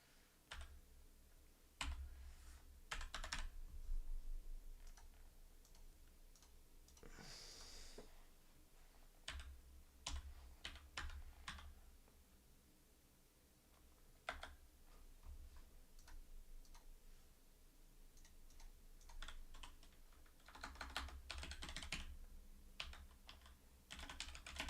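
Password being typed on a computer keyboard: irregular bursts of crisp key clicks and taps, some louder clusters, spread over about twenty-five seconds at close range with no talking.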